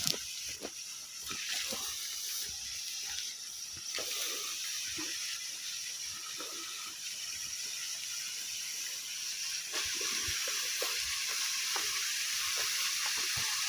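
A waterfall at a fishing spot, giving a steady broadband roar of rushing water that fills the scene at an even, constant level, with no voices.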